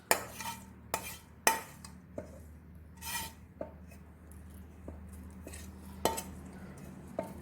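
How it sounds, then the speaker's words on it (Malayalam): A spoon stirs fried coconut tempering into cooked pumpkin curry in a pot, giving sharp, irregular clinks and scrapes against the metal, close and fairly quiet. "ഇനി നമ്മൾ ഇതിലോട്ട് വറവ് ഇടുകയാണ്."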